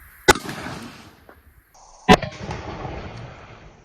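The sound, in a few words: firing at a spall test target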